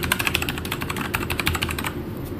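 Keys on a Saiosone 818K RGB mechanical keyboard (Motospeed K81) are pressed in a quick, uneven run of crisp clicky strokes, close and clear, tapering off near the end.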